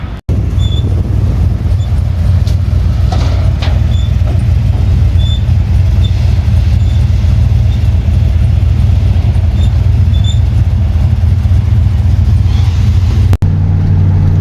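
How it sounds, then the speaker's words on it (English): A pickup truck drives along a road from inside the cab, with a loud, steady engine drone, a constant road rumble and faint higher whines throughout, cutting off abruptly near the end. "So I'm driving Aaron's truck back to the house now."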